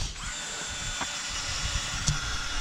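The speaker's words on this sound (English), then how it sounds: "now he's pre-drilling the holes here in the side" Power drill pre-drilling screw holes in the side of a timber chicken run frame, a steady whining drone running throughout with a couple of brief louder bites, fairly close.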